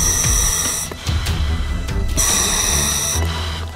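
Breathing through a diving regulator mouthpiece inside a closed coffin, with loud, hollow inhale-and-exhale cycles and hissing bursts of air repeating over several seconds, close to the microphone.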